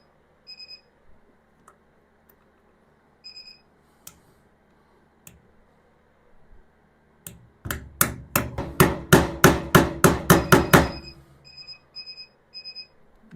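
A hammer tapping a wheel balancing weight onto a rim at a KATOOL KT-710G manual wheel balancer: a rapid run of about a dozen sharp metallic taps, with quiet beeps from the machine before and after.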